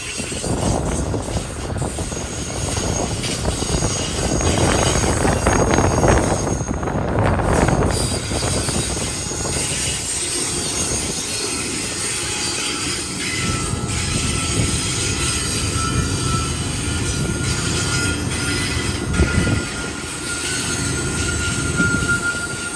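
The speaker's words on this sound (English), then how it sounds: "Manifest train." A long Union Pacific manifest freight train rolls by on the Palmdale cutoff with a heavy, continuous rumble, occasional wheel squeal and clanking cars, loud at first and easing slightly later.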